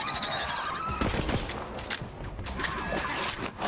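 A fire laser weapon in Borderlands 3 crackles and fizzes in a busy, continuous wash of energy bursts, with several sharper zaps standing out over the din.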